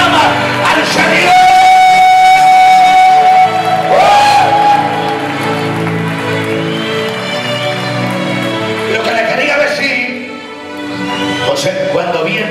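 A church congregation applauds and cheers loudly during a Spanish-language sermon, a sustained wash of crowd noise with shouts and whoops running throughout and a brief dip near the end.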